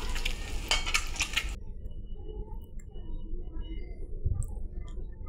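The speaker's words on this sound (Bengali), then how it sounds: "সেম এইভাবেই পরপর করে সবকটি ডিম ভেজে নেব" Eggs fry in hot oil for egg pakora, a steady low sizzle with a brief brighter burst of crackling near the start and an occasional utensil tap, close and moderately quiet.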